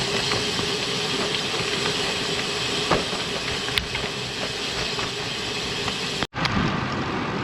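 Strong wind gusts of about 27 mph roar over a cyclist pedaling hard through Kingwood streets, a constant loud rushing buffet, close to the microphone, that ends in a sudden cut near the finish.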